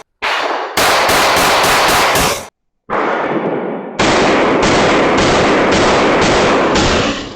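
A SIG P320 M17 pistol fitted with a Romeo red dot fires in loud, rapid strings of shots at close range, two long bursts separated by a brief pause.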